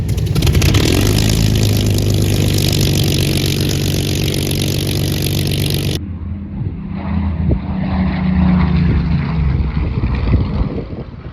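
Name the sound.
Supermarine Spitfire propeller warbird taking off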